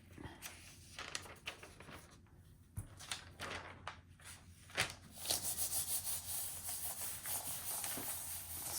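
Hands smooth a large paper sheet laid flat on a surface, giving soft, close rubbing and scuffing strokes, faint at first and growing into a steadier swishing toward the end.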